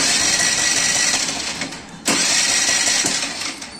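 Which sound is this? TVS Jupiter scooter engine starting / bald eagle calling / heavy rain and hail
TVS Jupiter scooter engine starting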